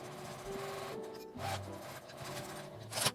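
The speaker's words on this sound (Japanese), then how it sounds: "こちらにも端ミシンをかけます" A sewing machine runs a line of edge stitching along the folded fabric of a cross hair band, a steady close mechanical whir with slight shifts in tone and a brief louder burst near the end.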